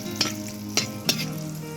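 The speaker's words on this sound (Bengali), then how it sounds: "বেগুনি ভাজতে তেল লাগবে" Eggplant fritters (beguni) frying in oil at a rooftop vegetarian picnic, a loud continuous close sizzle punctuated by three quick metallic clinks of a spatula, no talking.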